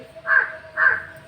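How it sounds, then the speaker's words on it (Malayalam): Two harsh crow caws about half a second apart, fairly close and clear, with no other sound around them. "നമ്മുടെ കാക്കച്ചി"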